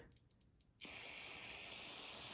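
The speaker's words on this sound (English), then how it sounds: "We'll spray some cleaner through the main jet." A steady, loud aerosol spray hiss of carburetor cleaner being sprayed onto a snowblower carburetor's float and main jet starts abruptly after a short pause and continues without break, close up.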